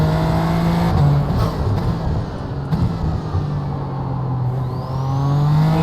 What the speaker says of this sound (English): The Super Formula car sounds rather grunty, as I would call it.